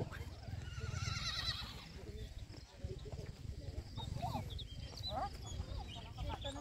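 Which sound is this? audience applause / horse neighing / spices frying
horse neighing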